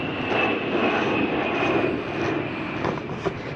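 A fixed-wing airplane passing overhead near the Pima Air Museum in Tucson, a steady broad engine roar with a faint whine, continuous and fairly loud throughout with no talk.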